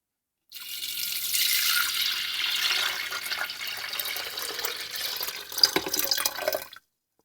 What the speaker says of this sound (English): So I'm going to pour in the water.